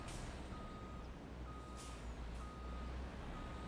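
Reversing beeps from a tractor with a small trailer in Farming Simulator 25, several spaced tones over a steady low engine rumble with a faint air-brake hiss, moderately quiet and with no speech.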